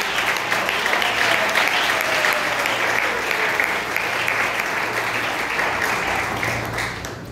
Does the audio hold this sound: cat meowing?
no